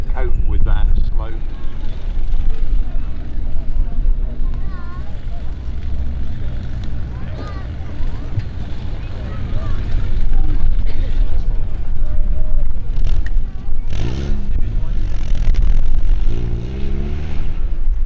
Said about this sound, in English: Again, the lightweight Land Rovers with a shorter wheelbase, they're able to cope with that slope.